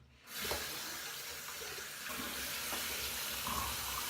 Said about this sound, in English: let me rinse off and we'll get to the aftershave